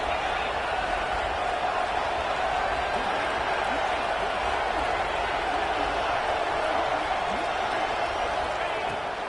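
A college football stadium crowd in an NCAA football video game roars steadily and loudly on a big third down, a dense continuous wash of cheering with commentary voices over it.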